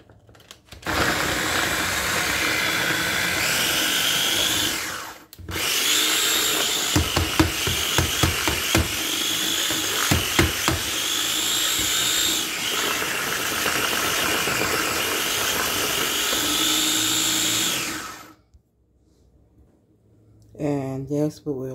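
A food chopper whirs loudly while chopping cleaned, cut cabbage for coleslaw, a steady motorized roar with a brief pause mid-run and rattling pulses, then it stops and someone speaks briefly.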